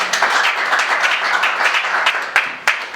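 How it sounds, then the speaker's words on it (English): An audience applauds a guest at a summit of Middle Belt youths and the Ohaneze Youth Council, with steady, dense clapping that carries on throughout and a few sharper claps standing out near the end. "A round of applause for our guest one more time"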